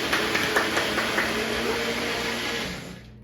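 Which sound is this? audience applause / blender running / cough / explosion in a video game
blender running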